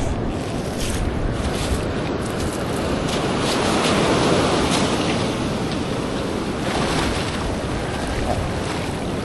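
Ocean waves washing onto a beach at night, a steady broadband roar of surf with gentle swells in loudness, mixed with wind buffeting the microphone throughout.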